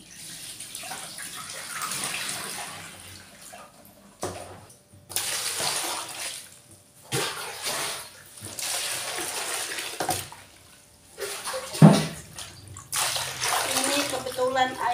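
Water scooped from a barrel and poured over water spinach to wash it in a home kitchen, bursts of splashing and pouring separated by short pauses, with a voice talking at times.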